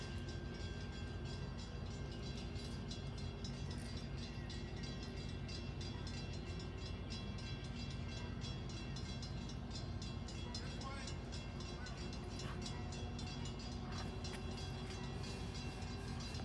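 A passenger train sits at a station with a continuous loud rumble and hum, faint clicks and tonal whines running throughout, and a voice speaking now and then.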